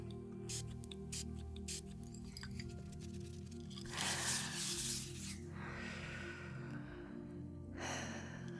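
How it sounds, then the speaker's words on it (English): A spray bottle of peppermint mist is pumped several times, soft breathy hisses spaced apart over a quiet background hum, with gentle close-up handling sounds in between. "Spray a little bit around,"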